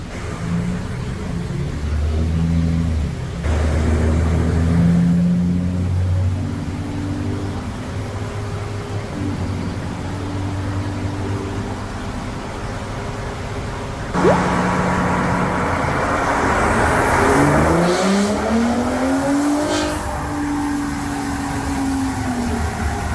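Tuned 2023 Ford Raptor truck with a 3.5 EcoBoost engine running E85, held under steady engine drone, then revving up hard in a rising pull before easing off, loud and close.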